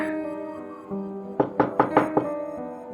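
Five firm knocks rap on a bedroom door in a rented boarding-house room, evenly spaced and close, heard over a quiet background of sustained musical tones.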